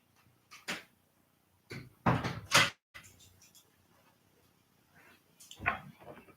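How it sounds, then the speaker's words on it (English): A door is shut inside a house: scattered clunks and rattles, with a louder thud in the middle and another knock near the end. "as I shut the door"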